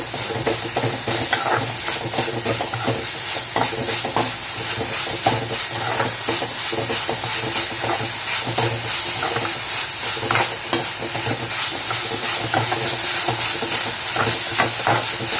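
Broad bean stir-fry sprinkled with sugar crackles loudly in a hot pan while a spoon keeps scraping and tossing. The hiss runs steady and close throughout, with no voices.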